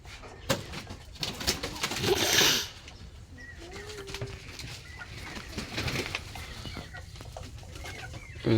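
Pigeons coo alongside clucking chickens on a small poultry farm near Dhaka. The calls come from close by in short bursts, with a louder rustling surge early on and low farmyard noise underneath.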